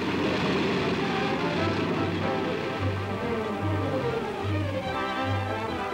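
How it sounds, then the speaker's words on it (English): A 1946 flying automobile, a car fitted with propeller and wings, flies with its aircraft engine droning steadily and loudly throughout, with a rough propeller hum underneath. "Out of the air and onto the road comes the flying automobile."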